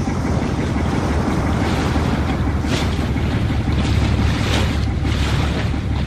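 Constant loud rushing of wind and churning water surrounds a boat pitching on rough sea, with no voices heard.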